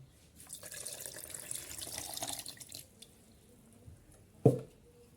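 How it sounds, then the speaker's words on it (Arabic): Cold water pours and splashes into a kitchen blender jar for a few seconds, then trails off into quiet before a single short knock near the end. "شوية مية ساقعة."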